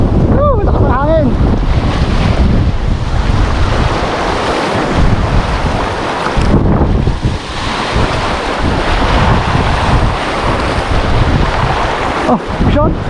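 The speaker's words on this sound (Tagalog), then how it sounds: "Lakas ng hangin." Strong amihan monsoon wind at sea aboard a boat: loud, continuous roaring gusts batter the microphone over the wash of surf, with brief voices near the start.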